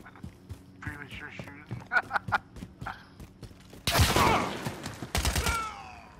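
Rapid bursts of gunfire from the Modern Warfare video game erupt loudly in the second half, two dense volleys following a stretch of chatter and lighter tapping sounds, with voices talking over the game.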